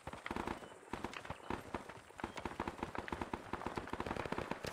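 Gunfire in the military video game ArmA 3, rapid bursts of sharp shots in a fast, uneven rhythm, fairly faint and continuing throughout.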